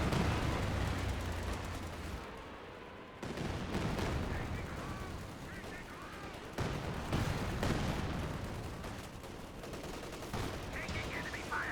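Company of Heroes 2 battle gunfire: repeated tank and gun shots crack and boom across a busy, fairly quiet mix, with a commentator's voice talking throughout.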